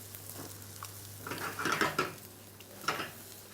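Langoustine pasta sauce simmering in a pan, a soft bubbling sizzle with light clinks of a utensil against the pan, fairly quiet and close with a few brief louder stirring bursts.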